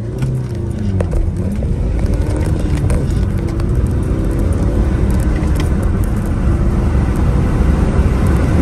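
A BMW 320d accelerates hard from 0 to 60 mph, its engine a loud, steady, close roar with rising tones, continuous and unbroken by speech.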